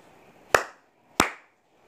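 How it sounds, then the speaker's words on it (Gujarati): Two sharp hand claps, spaced well apart, ring out close and alone against near silence, each with a short decaying tail. "અરે આ વખતે પણ બે તાળી વાગી"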